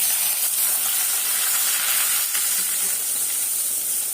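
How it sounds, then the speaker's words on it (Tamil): Small sambar onions and curry leaves sauté in a pan, producing a loud, steady close hiss and sizzle that holds evenly throughout with no voices. "இப்போ நல்லா அரை வேக்காடு வதங்குற வரைக்கும் நல்லா வதக்கணும்"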